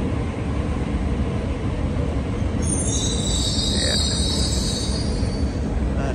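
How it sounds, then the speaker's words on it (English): A train arrives at a Sydney Central Station platform with a loud continuous rumble and a high wheel squeal rising partway through, while someone briefly speaks. "there is a train arriving in 221 at the moment"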